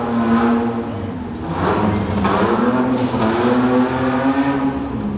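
A 4WD vehicle grinds over loose rocks, its engine droning and rising steadily throughout, loud and close with a rough, uneven texture.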